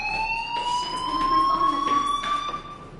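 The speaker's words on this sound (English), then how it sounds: "Hey, do you hear that fire alarm?" Steady electronic fire alarm in the video game Life is Strange, a continuous whooping siren tone that holds throughout with no pauses.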